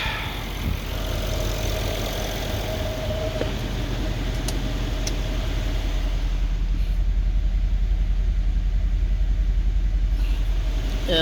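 A 2012 Mercedes E63 with a freshly rebuilt engine idles while warming up, a steady deep rumble heard up close and alone, with a few faint clicks over the drone.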